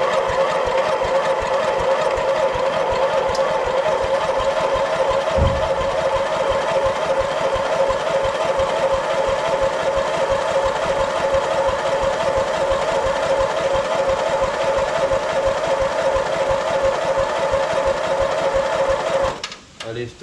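An old lawn tractor engine runs steadily at idle, a continuous droning hum with a brief knock partway through, cutting off abruptly at the end.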